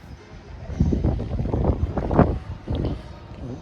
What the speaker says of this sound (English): A little bit windy, hopefully it's not too much muffled on the microphone.